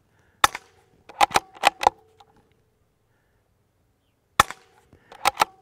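Suppressed gunshots from a rifle fitted with a full titanium modular silencer, fired outdoors into a clay berm: a sharp crack, then a quick string of three or four, a long pause, and another cluster, close and punchy.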